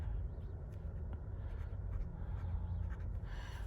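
A broad-nib fountain pen scratches across paper in short, soft strokes, faint and close, with steady low background noise and no talking.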